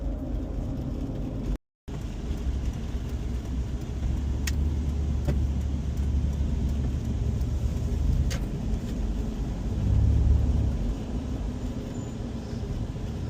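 Steady low road and engine drone from a 3.5 V6 petrol Mitsubishi Pajero Mk3 Exceed short-wheelbase driving, heard from inside the cabin with a brief dropout and a swell of rumble later on.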